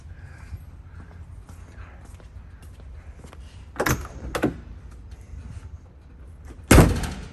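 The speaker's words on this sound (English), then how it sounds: "I can show you that door shutting too." The passenger door of a 1954 Chevy pickup truck is worked with a few lighter clicks and knocks, then shut with one loud, solid slam close by.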